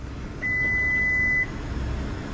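A Honda HR-V e:HEV power tailgate emits a single steady electronic beep lasting about a second as its opening height is set, clear and close over a quiet background hum.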